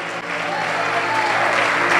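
A church congregation clapping loudly and steadily during a sermon, a dense continuous applause that builds slightly over two seconds, with a voice faintly audible underneath.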